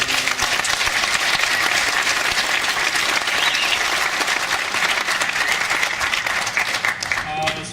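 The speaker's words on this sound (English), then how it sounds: "I think Tom deserves a round of applause" An audience at a fishing tournament awards presentation gives sustained, loud applause, dense clapping that holds steady for several seconds before tapering slightly at the end.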